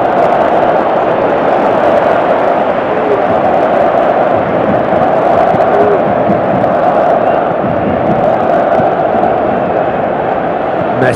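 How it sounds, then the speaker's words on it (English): Stadium crowd in a PES 2018 Champions League match with FC Barcelona, a steady dense roar of massed voices rising in calls, continuous and loud throughout with no clear commentary over it. "Crowd calling for him to shoot."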